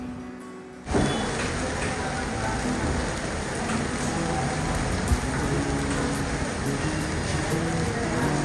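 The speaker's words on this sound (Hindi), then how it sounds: "बारिश हो रहा है बाहर" Rain pours down steadily after a brief quieter moment, a dense continuous hiss of drops hitting surfaces nearby.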